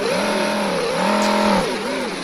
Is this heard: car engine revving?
yes